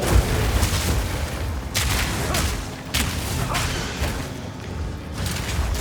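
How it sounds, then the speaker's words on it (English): Booming explosion bursts from a Path of Exile 2 co-op fight, heavy low thuds repeating over several seconds amid dense battle noise, with players talking faintly underneath. "Watch out, giant explosion."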